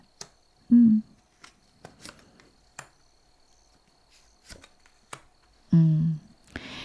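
Tarot cards handled and shuffled on a table, with soft scattered riffles and taps, a few sharper flicks and two louder thumps, quiet and close with no talking.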